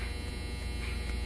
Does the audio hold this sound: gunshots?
no